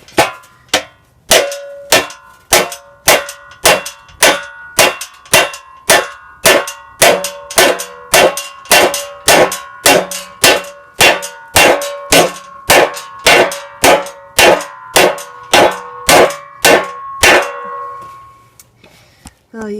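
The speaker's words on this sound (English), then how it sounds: "I'm just going to have at it with the sledgehammer here." A sledgehammer hammers a heated steel snowblower auger shaft on a John Deere snowblower, about thirty loud ringing metallic clangs in a steady rhythm, each one close and resonant, stopping abruptly near the end.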